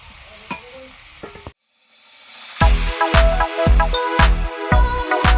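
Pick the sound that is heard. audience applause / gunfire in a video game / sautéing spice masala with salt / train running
sautéing spice masala with salt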